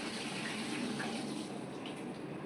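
Prawns are rinsed under a running tap, a steady, close rush of water hissing continuously for the whole stretch, with no voices.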